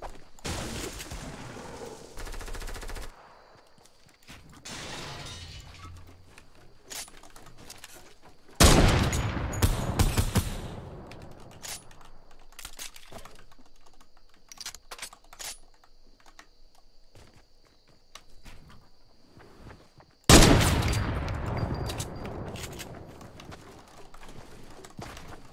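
Gunfire in the battle royale game Fortnite comes in three sharp, loud bursts of rapid shots separated by quieter stretches of faint clicks and ambient game sound.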